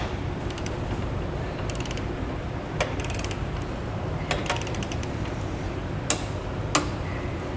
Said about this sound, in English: Then we'll take a 3/4 inch socket, we're going to tighten, and then come back and torque all of our hardware